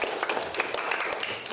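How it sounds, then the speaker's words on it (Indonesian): Applause in a classroom, a steady wash of many hands clapping together, moderately loud and continuous for a brief burst with no talking over it. "Tepuk tangan untuk kita semua."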